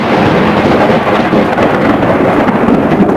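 A storm with heavy thunder rumbling continuously, a deep sustained roar with steady rain hiss, loud and close throughout with no voices.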